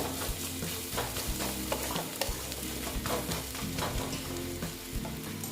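Dried loitta fish (Bombay duck) fries in a pan with a steady, close sizzle, broken by repeated scraping stir strokes throughout; no voices.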